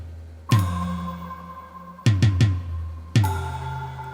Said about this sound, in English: a little sting I've used a lot in my Explaining the Future videos